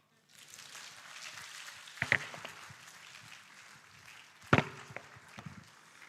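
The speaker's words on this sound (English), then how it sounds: "Please, let's make the applause louder." Soft, distant applause from an audience at a medical association annual general meeting in Ghana, a steady patter of clapping with a couple of sharper knocks standing out along the way.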